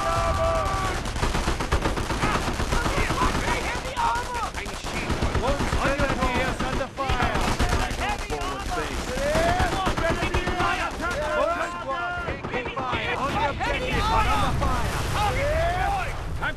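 Gunfire in the World War II strategy game Company of Heroes: Opposing Fronts, bursts of rifle and machine-gun shots with distant blasts crackling continuously under shouted soldier voice lines.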